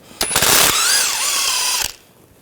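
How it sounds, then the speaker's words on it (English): A ratchet with a 16mm socket works a subframe bolt loose on a 2009-2017 Volkswagen Tiguan: a short burst of loud, close clicking, then a high whirring whine that stops abruptly. "We're going to start by taking these bolts out. We're going to move this bolt, use a 16mm socket."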